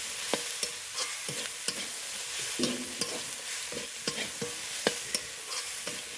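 Spatula stirring vegetables with Kashmiri chili, coriander and black pepper powders in a hot frying pan for chicken fried rice, a steady soft sizzle with repeated light scrapes and taps against the pan.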